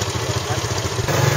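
A rented motorcycle's engine idles steadily and up close in Vietnam, a low, even throbbing rumble that holds without a break and swells slightly near the end.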